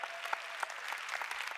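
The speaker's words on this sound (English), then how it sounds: "then clap your hands" A church congregation at a Wednesday Bible study claps its hands, a dense, steady patter of many palms that fills the room at moderate loudness with no break.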